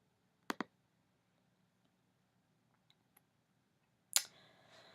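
Computer mouse clicks, a quick double click near the start, a couple of faint ticks, then a louder click followed by brief rustle, close and isolated in near silence.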